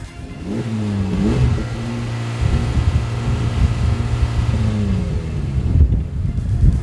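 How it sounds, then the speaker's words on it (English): A sports car engine revs hard and climbs in pitch, loud and close, on a racetrack straightaway at Toronto Motorsports Park, with gear changes breaking the steady rising drone. "the engine revs more freely, and while it doesn't have the fabricated pops and bangs"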